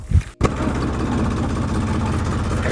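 A tractor engine idles on a farm with a steady, rumbling mid-to-low drone that holds constant and fairly close after a brief knock at the start.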